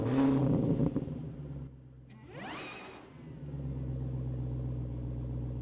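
A 2025 Lexus IS 500 rolls off and accelerates, its engine note rising in a smooth swell with a brief whoosh, then settling into a steady mid-pitched drone.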